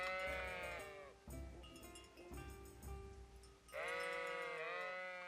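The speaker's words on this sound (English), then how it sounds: "Sheep." Sheep bleat in the video game Kingdom Come: Deliverance, a few drawn-out wavering calls close by with a soft clink in the background, the last bleat louder than the rest.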